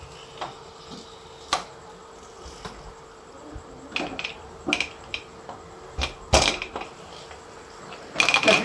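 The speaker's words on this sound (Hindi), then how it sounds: "अब मैं इसको प्रेशर कुकर को बंद कर दूंगी।" A pressure cooker holding mutton trotters and water is closed in a home kitchen: scattered small metallic clicks and taps, then sharper clattering bursts of lid and handle contact, close and fairly quiet, with no talking.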